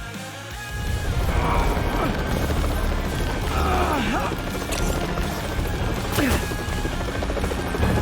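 A helicopter's rotor thrums loudly and steadily amid crashes and impacts in the video game Marvel's Spider-Man on PS4, with game-like mechanical effects layered over the din.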